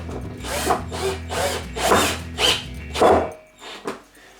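A power drill driving screws while assembling an Ikea Kallax shelf whirs in short repeated bursts, revving up and dropping off several times, close and fairly loud.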